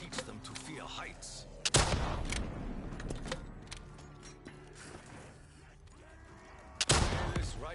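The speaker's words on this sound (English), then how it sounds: "Rocket launcher is a weapon of brute force." Rocket launcher fire in a video game: two loud blasting launches about five seconds apart over a busy mix of mechanical clatter, gunfire and a voice speaking underneath.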